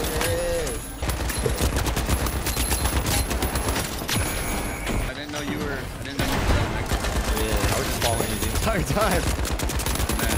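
Rapid gunfire in the video game The Finals, dense bursts of automatic shots and impacts almost continuously over ten seconds, loud and close, with brief lulls and a voice talking under the shooting.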